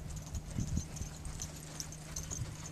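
A horse jogging, its hooves making soft, fairly regular clip-clop beats close by with no talk over them.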